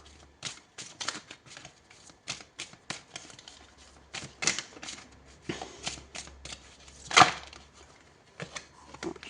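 Tarot cards shuffled by hand in a quiet room, a run of soft riffling flicks and taps with brief pauses between bursts, close and fairly faint.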